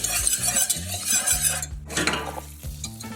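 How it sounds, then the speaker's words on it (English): A flour roux cooking over medium heat in a pan, with steady close sizzling and frying plus repeated scraping stirs of a utensil against the pan, loud and continuous. "Just gonna cook this on medium heat until you get the consistency of wet sand."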